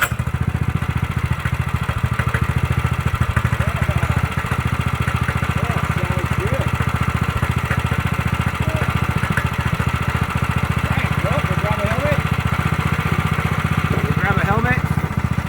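Manco Dingo small engine running steadily after a carburetor swap and ported head, a continuous close idle-like drone with people talking over it throughout.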